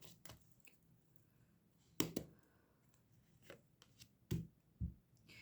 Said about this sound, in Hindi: final shuffle